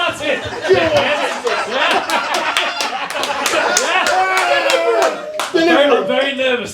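A comedy club audience claps loudly and continuously, the dense applause mixed with chatter and scattered laughter throughout.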